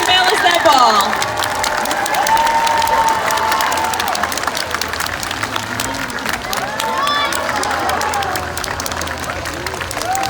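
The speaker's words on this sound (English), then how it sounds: "we're going to need to give her a big round of applause" An audience at a Long Island aquarium sea lion show claps and cheers loudly, with children shouting through a continuous wash of applause while an amplified voice speaks over it.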